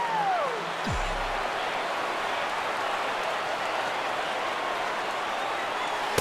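Dense, steady crowd roar from a stadium of over 39,000 fans on their feet in the MLB The Show 15 baseball video game, filling the whole stretch at an even level, with a brief sliding tone and thump near the start.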